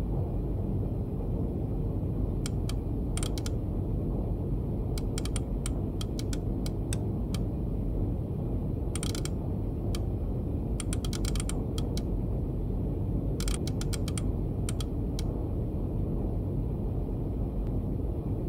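Keyboard typing and mechanical clicks of Enigma rotors being set in the submarine game Wolfpack, short bursts of keystrokes in irregular clusters over a steady low rumble of engine background.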